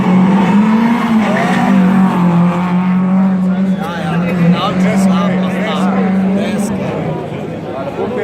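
A rally car speeds through a special stage at the Vipava Valley rally near Ajdovščina, Slovenia, its sustained engine note and tire noise heard beneath a commentator talking over it.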